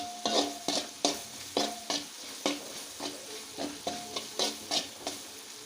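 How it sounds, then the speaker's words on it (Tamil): Ground masala powder for fish kulambu is sautéed in a pan, a soft frying hiss punctuated by regular spatula scrapes and knocks in a steady rhythm, close by and without speech. "இப்போ பொடி நல்லா வதங்கிடுச்சு"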